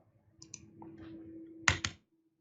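A few soft keystrokes on a computer keyboard, then two sharp, close clicks near the end, in a quiet room with a faint steady hum.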